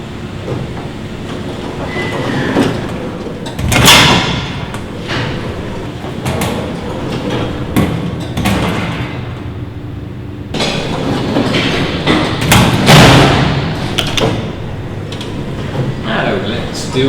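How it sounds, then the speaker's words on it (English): Lift doors repeatedly slide shut on a Nikon D90 camera, producing sharp thuds and clunks between mechanical rumbling, close and loud, with a voice speaking at times. "and then you get your camera caught in the lift."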